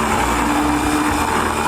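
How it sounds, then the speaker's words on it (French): Kitchen blender whirring steadily as it mixes Skittles candy, a loud continuous motor drone with a steady hum, running alone without pause. "je mets couleur par couleur dans le mixeur et je mélange le tout"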